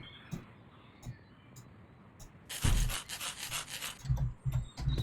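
Scratchy rubbing and rasping crafting sounds from modded Minecraft (TerraFirmaCraft) come in short bursts, then a denser grinding stretch, close and moderately loud.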